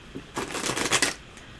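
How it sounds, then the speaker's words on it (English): Tarot cards get shuffled in one brisk riffle lasting about a second, a close, crisp papery flutter heard alone in a quiet room. "Shuffle."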